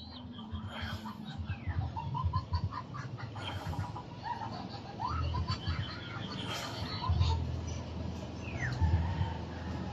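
Chickens chirp and cluck in short repeated calls, a few brief peeps rising above a busy rustling background at moderate distance.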